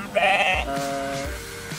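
A sheep being handled and lifted bleats once, loud and near, a wavering cry near the start, followed by quieter low shuffling and background noise without talk.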